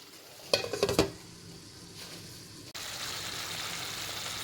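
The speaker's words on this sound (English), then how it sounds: "the chicken is now frying" Chicken pieces fry in a pot, a soft continuous sizzle under a few quick stirring clatters near the start, steady and close afterward.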